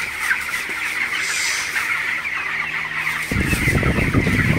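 Broiler chickens in a shed during hot weather cluck steadily at close range, with a broad rustling background; a low rumbling noise rises and dominates the final second.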